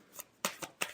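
Tarot cards are riffled in three quick, crisp shuffling bursts, close and fairly quiet, with no talking.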